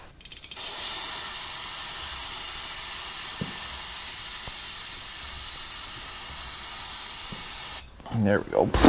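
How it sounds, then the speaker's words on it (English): An aerosol can sprays in one long, loud continuous hiss lasting several seconds, then cuts off, followed by brief rustling. "I thought you were supposed to be able to spray this stuff both ways."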